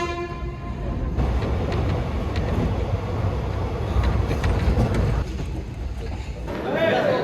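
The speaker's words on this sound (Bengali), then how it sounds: "ঠিক 4:10-এই ট্রেন এসছে, একটুকু লেট নেই ট্রেন।" A local train pulls into a busy railway station near Sealdah, a steady rumbling roar of wheels and carriages filling the platform, with voices talking throughout and a brief horn-like tone near the start.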